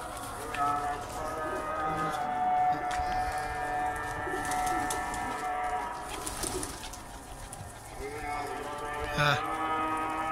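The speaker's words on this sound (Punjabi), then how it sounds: "ਆ ਤੀਸਰੇ ਨੰਬਰ ਵਾਲਾ ਕਬੂਤਰ ਹੁਣ ਬੈਠਾ।" A black-tailed pigeon settles onto a perch, soft cooing mixed with bird calls and lowing cattle nearby, while someone talks over the scene throughout.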